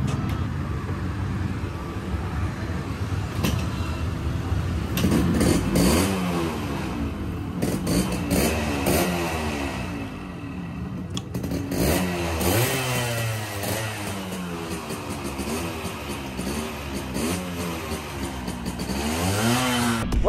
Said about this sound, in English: a little bit intro to this motorcycle. This is one of the most beautiful motorcycles.